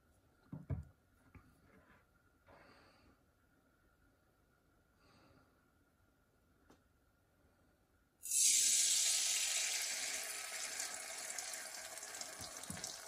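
Pitha batter dropped into hot oil in a wok gives a sudden loud, steady frying sizzle that fades slightly and keeps going, following a few faint kitchen clinks and knocks.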